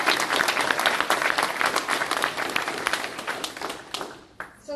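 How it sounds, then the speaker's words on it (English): Audience applause fills a civic State of the City address in Campbell, a dense wash of many hands clapping that thins out toward the end with a brief pause. "So now is the time for a round of applause."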